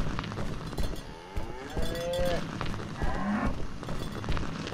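A cow moos twice inside a video game, drawn-out lowing calls rising over busy game sounds and scattered clatter, moderately loud and close.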